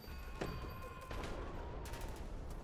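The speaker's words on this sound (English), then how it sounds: "gunshots, screams, and maniacal laughter fill my ears once more" Gunfire in the video game LADS breaks out in bursts of shots, loud and close over a constant noisy background.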